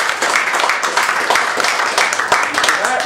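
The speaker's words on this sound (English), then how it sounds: "That deserves another round of applause." An audience at a political endorsement event gives a brief round of applause, irregular clapping close by with some crowd noise mixed in, lasting about three seconds.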